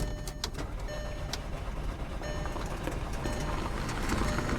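A 2007 VW Passat engine cranking as it tries to start, heard as a steady, gritty churning noise with scattered sharp clicks, fairly close and moderately loud, with no one speaking.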